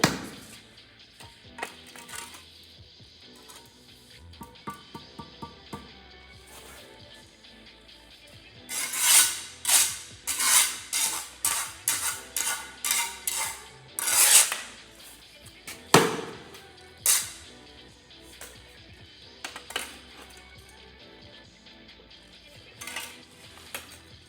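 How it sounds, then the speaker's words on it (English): A mason's steel trowel scrapes and slaps excess mortar back into a mortar pan while laying a 4-inch block lead, a run of rapid, close gritty scrapes and clanks in the middle, with scattered lighter scrapes before and after. "gather up our excess mortar, and throw it back in our pan"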